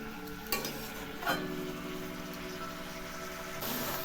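Palong shak (spinach) being lightly stirred in a pan, a soft continuous sizzle with a few scraping stirs and small knocks, fairly quiet and free of talk.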